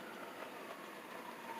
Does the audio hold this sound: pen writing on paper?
no